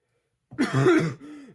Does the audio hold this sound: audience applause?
no